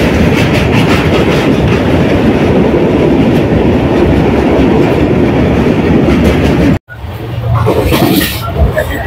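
A train runs loud and close over a bridge across the Godavari river, a dense, steady rumble with rhythmic clickety-clack. After a sudden brief drop the rumble resumes, and faint voices can be heard under it.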